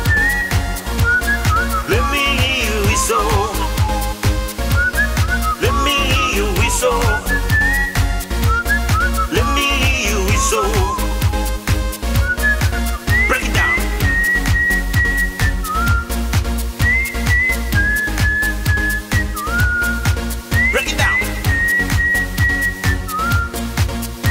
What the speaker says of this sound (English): Now let me hear you whistle.